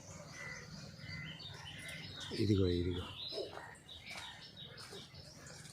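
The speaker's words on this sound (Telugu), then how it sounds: "జామ చెట్టు మీదకి రెండు మూడు పిట్టలు వచ్చినాయి ఇంకా తింటున్నాయి అవి" Small birds chirp lightly in a guava tree, faint and scattered through the clip, while a voice speaks briefly over them.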